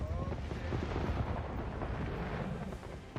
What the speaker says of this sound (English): I set off the fireworks